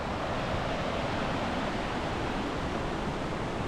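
Waterfalls along the Wahclella Falls trail in the Columbia River Gorge pour as a steady, even rushing hiss, constant and fairly soft with no other sounds.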